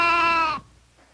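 A kidnapped goat, a school mascot, gives a single loud close bleat lasting about half a second, then falls silent.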